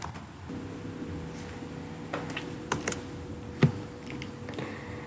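A computer keyboard typing a terminal command, with a series of close, irregular key clicks and taps, a few sharper strokes standing out near the end.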